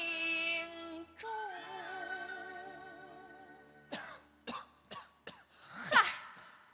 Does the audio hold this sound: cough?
yes